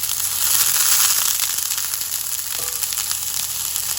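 Mushroom scallops brown in a hot pan, their moisture popping in a loud, steady close sizzle with fine crackles and a short clink partway through.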